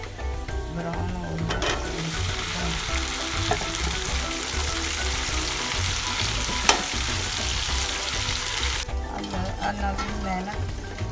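Okra and browned onion frying in a pan for a chicken bhindi dish, a loud, steady sizzle that runs almost unbroken with a sharp clatter partway through and someone talking over it.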